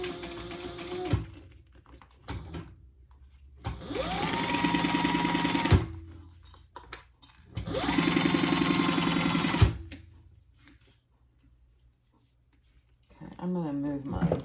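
A sewing machine stitches a zipper seam with a quarter-inch allowance on a fabric pouch, running in two loud sustained bursts of a couple of seconds each, separated by quieter stretches with handling noises and a voice speaking.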